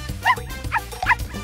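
A cartoon puppy in a children's puzzle game gives three quick, high yappy barks with a slightly whimpering tone, close and clear, with no other voices.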